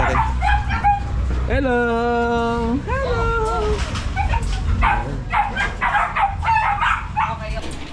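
Several big Belgian Malinois dogs bark and yelp close by, one letting out a long drawn howling whine, with rough overlapping barks throughout and a person calling out a greeting among them.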